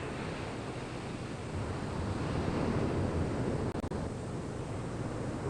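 Ocean waves surge up a sandy beach in steady, broadband roaring wash with wind, loud and continuous, swelling in the middle and briefly dipping near the end.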